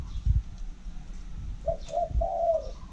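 A caged decoy bird kept at a hunting camp coos twice in soft, low, drawn-out notes in the second half, preceded by a few dull thumps, with no talk.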